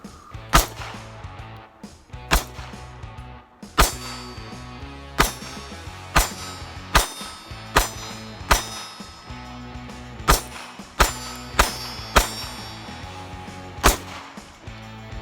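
Springfield Hellcat pistol fired at steel targets outdoors, about fourteen sharp shots in an uneven rhythm, each followed by a bright metallic ring from the struck plate, with no talking.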